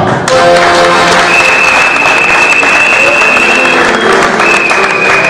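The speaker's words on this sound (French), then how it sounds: "On va applaudir pour ça." Loud, continuous applause fills a meeting hall as a packed audience claps steadily for several seconds, with a faint tone running through the noise.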